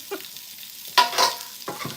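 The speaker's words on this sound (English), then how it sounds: "Tiny sizzle with the green beans." Green beans sizzle softly in a hot pan, a quiet frying hiss broken by a few brief clattering bursts as they are stirred or tossed.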